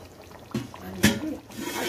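Water pours into a cooking pot of bony meat pieces in a home kitchen, a short splashing trickle in two brief bursts heard close, with people talking over it.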